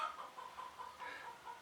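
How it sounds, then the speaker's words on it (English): A chicken clucking in the background of a quiet morning scene at home, a faint series of short repeated clucks in an irregular rhythm, heard without any talk. "There's a chicken."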